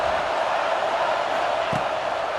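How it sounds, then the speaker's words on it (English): Stadium crowd roaring in the College Football 26 video game during a #7 Michigan vs Wisconsin matchup, a dense, steady wash of cheering held at a constant level throughout, with one brief thump near the end. "Listen to this crowd just shaking the girders of this place"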